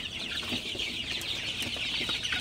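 Many Sonali super hybrid chicks peep and cluck together without pause in a poultry shed at evening, a busy, bright chorus heard up close.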